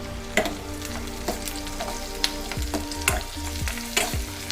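Onions, green chillies, curry leaves, cumin and dried red chillies fry in hot oil for a leafy dal, with a steady close sizzle broken by repeated scraping stirs and light clinks, no talking.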